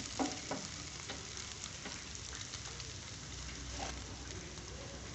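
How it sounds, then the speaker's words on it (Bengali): Chopped green chillies and garlic, both raw and roasted, frying in a pan for an eggplant mash, a steady soft crackling sizzle with a couple of brief clicks, faint and without talk. "এই সবগুলো আমি একটু ভেজে নেব।"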